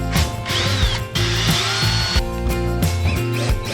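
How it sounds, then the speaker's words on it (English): Power drill pre-drilling screw holes while installing a Maxx Air roof fan on a Toyota RV, with a whirring motor that rises and dips in short bursts, close and loud. "I'm gonna be pre-drilling some of these holes and then screwing them in"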